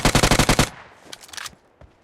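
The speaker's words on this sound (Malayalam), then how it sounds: "ചുമ്മാ ഫയർ ചെയ്യ് നോവ. ചുമ്മാ ഫയർ അടിക്കി." Loud bursts of automatic gunfire in the video game BGMI, a tight rhythmic string of shots at close range that stops abruptly, followed by a few scattered fainter impacts and shots.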